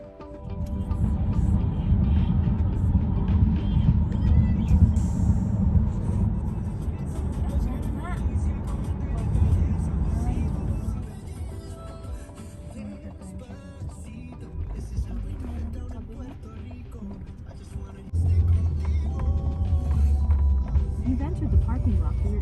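A car driving along, its steady engine and road rumble filling the cabin continuously, loud and close, with the tone shifting partway through.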